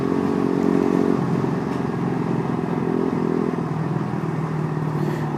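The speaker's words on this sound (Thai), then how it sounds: "เสียงท่อนะฮะ ฟังจากในคลิป มันจะไม่เหมือนของจริงนะครับ" A Yamaha M-Slaz motorcycle's exhaust drones steadily while being ridden, a continuous engine rumble with light rattling and road noise, with no voices.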